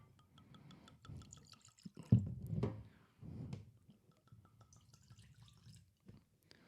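Blackened whiskey glugs and trickles from the bottle into a glass, a close, soft pour with a brief louder splash in the middle and light drips afterward.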